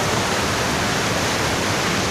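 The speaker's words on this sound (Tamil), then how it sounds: "இந்த ஃபால்ஸில் நிறைய தண்ணி வந்துக்கிட்டு இருக்கும்." Thoovanam waterfall near Munnar, swollen with lots of rain-fed water, gives a steady, loud, unbroken roar of heavy flow, close and continuous throughout with no other sounds.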